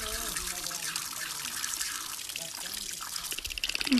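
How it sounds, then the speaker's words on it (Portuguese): Water from a tap runs steadily with broadband hiss and drips, mixed with a voice talking over it and a playful animal sound nearby. "Eu vou só desligar a torneira, rapaz."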